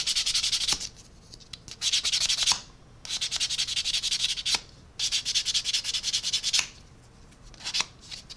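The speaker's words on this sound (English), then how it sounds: "You sand it down, it gets the perfect shape you need." Sanding a small resin helicopter blade fold part for a 1/35 Academy AH-1Z Viper scale model, with close, rhythmic bursts of rapid rubbing strokes that stop in brief pauses between sets.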